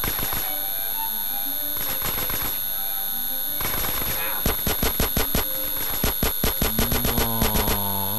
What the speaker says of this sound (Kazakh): Күшті атыс.